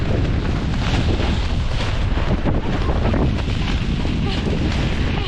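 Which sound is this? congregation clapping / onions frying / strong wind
strong wind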